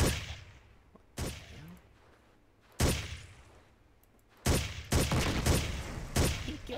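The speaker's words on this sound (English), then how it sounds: "that's like his good teammate shooting a grenade launcher" Gunfire bursts in the tactical shooter game Ghost Recon, including grenade launcher shots: four loud, sharp volleys separated by quieter pauses, the last ones coming in rapid clustered bursts with no talking.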